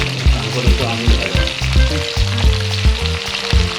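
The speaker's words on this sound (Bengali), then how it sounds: "এই যে মাছ ভাজা হবে" Katla fish frying in a pan, a dense steady sizzle with knocks and clatter of cooking utensils recurring throughout, close and fairly loud, without talk.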